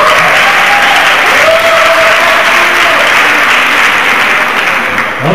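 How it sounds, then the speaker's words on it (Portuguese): Sustained, loud audience applause in a Brazilian show setting, many people clapping in an even, continuous roar. "uma salva de palmas para o Clemente."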